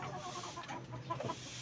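A hen on a small backyard poultry setup clucks softly in short murmuring bursts, faint and somewhat distant over a steady background hiss.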